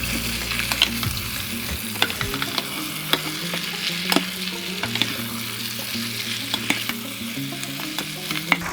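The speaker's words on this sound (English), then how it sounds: "Then we stir again." Moroccan chicken sizzling steadily in a hot pan as it is stirred, a constant close frying hiss punctuated by scattered spoon scrapes and taps against the pan.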